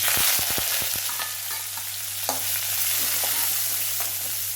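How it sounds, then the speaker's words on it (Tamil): Onions sizzle in a pan with mustard seeds and curry leaves for a beans poriyal, several quick metallic spoon scrapes at the start, then a steady close frying hiss with occasional stirring clinks. "வெங்காயம் நல்லா வதகிடுச்சு"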